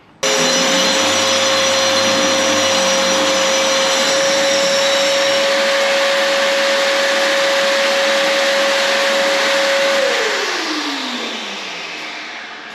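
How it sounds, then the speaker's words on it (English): A vacuum cleaner runs loudly and steadily with a high whine in a garage during epoxy floor preparation, then powers down, its pitch sliding away at the end. "Now to clean out the vacuum and re-vacuum this place."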